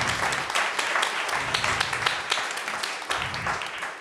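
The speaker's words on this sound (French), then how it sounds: "On peut l'applaudir." Applause from an audience at a French round-table discussion, a few seconds of scattered, moderately loud clapping with individual claps standing out, no voices over it.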